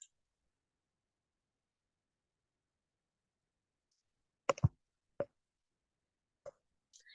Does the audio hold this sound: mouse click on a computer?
yes